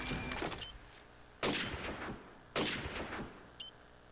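Gunfire in a Counter-Strike-style esports match: three sharp bursts of shots roughly a second apart, loud and close, each ringing out briefly before the next volley.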